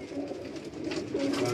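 A short burst of a bang pigeon's low, throaty cooing on a Karachi rooftop, close and continuous against faint background noise.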